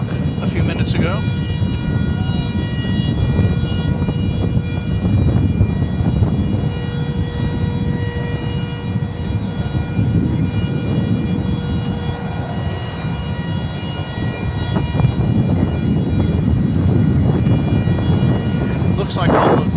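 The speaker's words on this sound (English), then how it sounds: "Here's that DHL flight of which we spoke a few minutes ago." A DHL cargo plane at Dallas/Fort Worth Airport at night, a heavy low rumbling roar that is loud throughout and builds again toward the end, with a voice talking over it at times.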